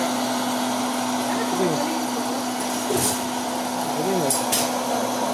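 A popcorn maker whirs steadily as it spins and heats, a constant motor hum running through the whole stretch with a few faint voices chatting over it.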